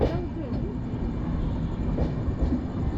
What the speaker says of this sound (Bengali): দেখতে দেখতে দ্বিতীয় দিন রাত্রেবেলা আমার ট্রেন গন্তব্যে পৌঁছল